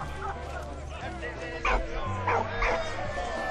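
A dog in the World War I puzzle game Valiant Hearts gives a few short yips and whimpers over a low droning game soundtrack, with brief bursts around the middle.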